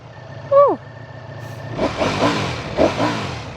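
A 2026 Ducati Panigale V4S with its stock exhaust blips its engine in loud, close rev bursts after a brief vocal sound and a low idle rumble.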